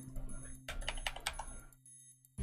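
A short burst of about half a dozen crisp keystrokes on a computer keyboard, close and quiet over a low electrical hum, followed by a pause and a soft thump at the end.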